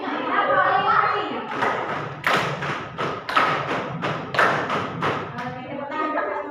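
Students in a classroom do a chanted hand-clapping routine, with voices joining in and a series of loud unison claps in a steady pattern between the chanting.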